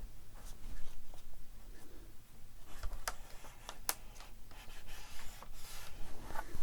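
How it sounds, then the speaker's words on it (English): A scoreboard tool scoring a line into paper: close, dry scraping and rubbing strokes with a few sharp clicks of the tool, quiet and steady, with no voices. "I'm going to use the scoreboard and just make another line"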